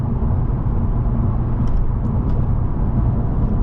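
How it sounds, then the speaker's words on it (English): A 2016 Lexus GS F V8 cruises at about 76 miles per hour, a constant low engine rumble blended with road and wind roar heard from inside the cabin, steady and unbroken. "The V8 definitely rumbles around the background."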